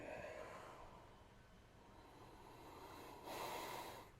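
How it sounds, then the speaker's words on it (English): Someone sniffs a glass of Ruby Redbird beer from Spoetzl Brewery in Shiner, Texas: close, breathy inhalations through the nose, with a longer draw and a sharper snort near the end, no speech. "Let's give it a sniff."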